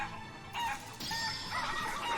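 Chickens clucking in the video game Shenmue 3, a few close, fairly loud squawking calls in quick succession over a steady game background.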